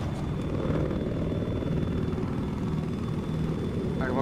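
A helicopter flies in a video game, its steady, loud rotor-and-engine rumble droning without a break from start to finish.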